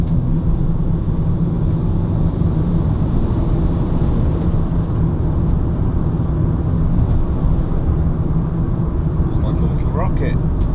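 A Peugeot Partner 1.6 HDi Professional van cruises on a motorway, heard from inside as a loud, steady drone of engine and road rumble with no change in pace.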